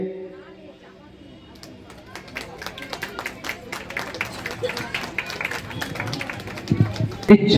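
Audience clapping at a Bengali festival felicitation ceremony, building gradually from scattered claps into steady crowd applause that grows louder toward the end, with a voice speaking over it at the start.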